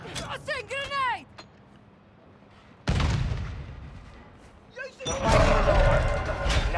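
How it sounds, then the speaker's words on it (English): Grenade exploding in Call of Duty: Modern Warfare II, a sudden loud broadband boom that decays over a couple of seconds, followed by a second burst of blasts and gunfire, with game voice chatter at the start. "Tossing grenade."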